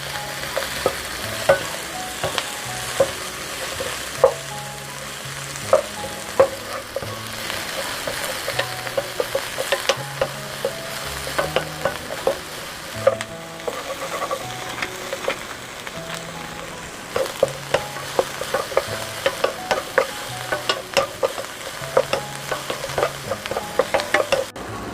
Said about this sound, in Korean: 꽈리고추가 투명해질 때까지 달달 볶아줍니다